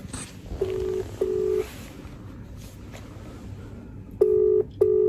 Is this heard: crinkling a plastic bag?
no